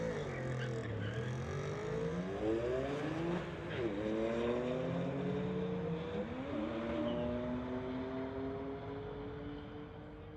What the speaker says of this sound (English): Chris Lupel in his Audi RSS going against Shurjit, his 2003 Porsche.